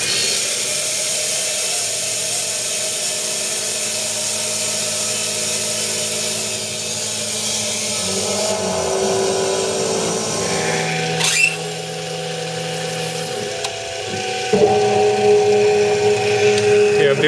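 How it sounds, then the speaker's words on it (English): A 3/16 reamer turning slowly at about 350 RPM on a milling machine through titanium for a knife framelock handle, giving a steady motor whine with a shifting cutting tone midway and no talk. "Doing my 3/16 reamer, nice and slow at 350 RPM-ish."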